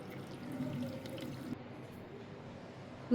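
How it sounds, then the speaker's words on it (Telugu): Boiled kalonji (nigella seed) water being strained, a steady soft pouring and trickling with liquid splashing throughout, ending in a brief louder clatter. "నేను వడపోస్తున్నాను నీళ్ళు చూడండి"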